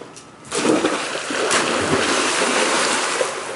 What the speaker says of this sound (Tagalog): Paramihan sila ng talsik daw ng tubig.